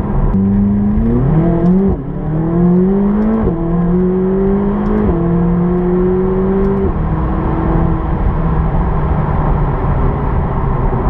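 McLaren 570GT sports car engine revving up through several rising pitch sweeps with brief dips between, loud and close, settling into a steady high drone.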